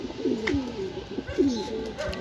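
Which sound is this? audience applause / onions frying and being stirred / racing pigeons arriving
racing pigeons arriving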